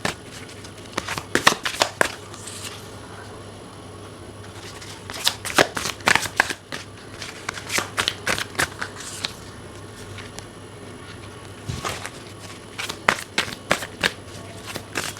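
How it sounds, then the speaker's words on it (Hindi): Tarot cards are shuffled and drawn, with crisp riffling bursts and soft card slaps in irregular clusters between quiet pauses, close and clear. "चलिए सारे कार्ड्स पहले निकालते हैं"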